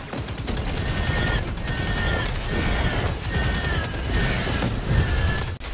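Rapid automatic gunfire from the Destiny 2 beta rattles almost without pause, dense overlapping bursts of shots filling the whole stretch at a steady loud level.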